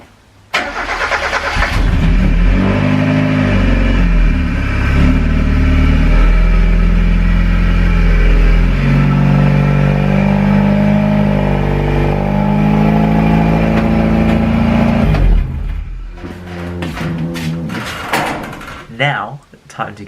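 A Mazda MX-5 Miata, NA generation, idles and is driven into a garage: a loud, steady engine rumble lasting about fifteen seconds, then it cuts off, followed by door and clunking sounds.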